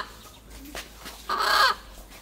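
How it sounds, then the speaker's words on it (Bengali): A freshly caught chicken gives a few short, agitated clucks close by, with one louder squawk near the end over faint background noise. "এই যে দেখেন মুরগি ধরা হয়ে গেছে"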